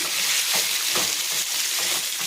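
Turmeric and chili powder go into a hot frying pan and are stirred through, producing a loud, close, continuous sizzle broken by soft scraping strokes of the spoon.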